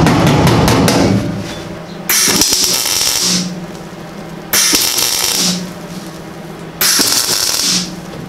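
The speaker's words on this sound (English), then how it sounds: "Just light taps." Light hammer taps on a patch panel fitted to a car's quarter panel during rust repair, heard as a few separate bursts of sharp metallic tapping with pauses between, fairly loud and close with no talk.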